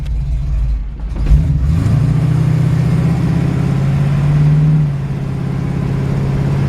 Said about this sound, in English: You can hear the engine runs well, transmission shifts well.